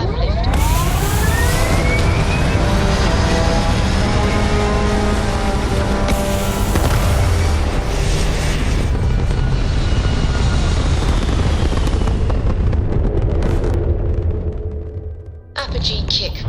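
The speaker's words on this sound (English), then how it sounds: "We have liftoff." Spaceship liftoff in the video game Starfield: a loud, sustained engine roar with rising whines and rumble fills the whole span, easing briefly near the end before surging again.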